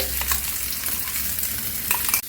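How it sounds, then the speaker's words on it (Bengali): Ground fenugreek leaf paste hitting hot oil in a wok, a loud, close sizzle and crackle with stirring scrapes throughout. "এই মেথি শাকটা দিয়ে দেব কড়ার মধ্যে।"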